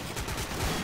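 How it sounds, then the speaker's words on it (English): A shotgun blast comes from a first-person shooter video game. It is a single loud, dense burst lasting under a second and is heard on its own. "shotgun!"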